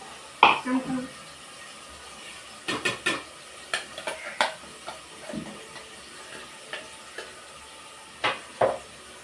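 Onion paste is stirred into a hot pan, with a series of short scraping strokes and soft sizzling bursts spaced irregularly, and a brief voice near the start.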